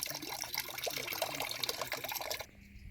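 Coolant drains from the radiator of a 2006 BMW X5 3.0i during a flush, a quiet, steady trickling pour that stops abruptly near the end.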